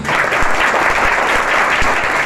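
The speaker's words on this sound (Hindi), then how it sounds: "आपके का तालियों का आवाज इससे ज्यादा जोर होनी चाहिए" Audience at a Basant Panchami celebration claps loudly and continuously, a dense close burst of applause lasting the whole moment without speech.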